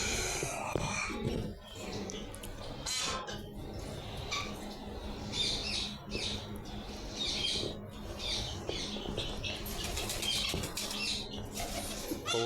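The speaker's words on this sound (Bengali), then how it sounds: "কবুতরটা এখন উড়াচ্ছে" A pigeon flapping its wings in a loft, soft fluttering wingbeats in quick clustered bursts along with scuffling and faint cooing and squawks from other pigeons, fairly quiet and close.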